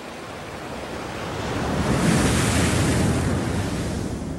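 Ocean waves breaking on a shore where hatchling sea turtles head for the sea: a broad rushing wash that swells to a peak midway and eases off, with wind buffeting the microphone.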